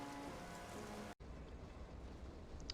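Steady rain hisses in Silent Hunter 3 as a U-boat leaves Kiel in fog, a soft, even wash of droplets that cuts out for an instant and resumes.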